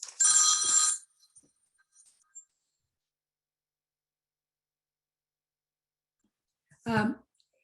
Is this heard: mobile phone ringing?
yes